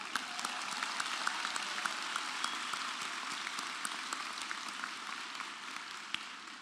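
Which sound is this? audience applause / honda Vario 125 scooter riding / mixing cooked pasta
audience applause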